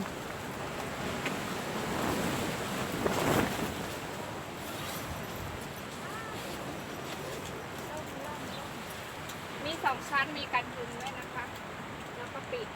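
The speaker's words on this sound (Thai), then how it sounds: "อุ้ย ลม" Outdoors at a campsite in southern France, gusty wind buffets and roars, with ocean surf washing in the background. The wind swells loudest early on and stays steady and close throughout.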